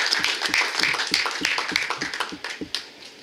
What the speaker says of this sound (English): So please give a round of applause for our members.